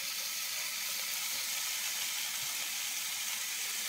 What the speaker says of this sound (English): we're already getting a sizzle here